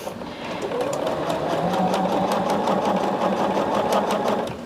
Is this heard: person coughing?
no